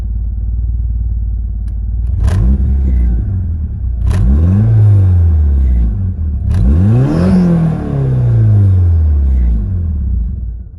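A Mitsubishi DSM car engine with its check engine light on runs at a low, steady idle, broken by three loud rising-and-falling throttle blips close by. No voices are heard.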